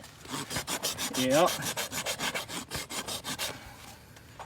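A rasp files a horse's hoof in quick, regular rough strokes, about a dozen close scrapes in a steady rhythm, while a voice briefly speaks partway through.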